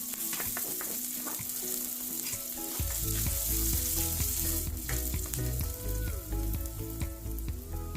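Chopped onions and curry leaves fry in a pan on a low gas flame for semolina upma. A continuous sizzle swells louder after a few seconds, with stirring scrapes running through it.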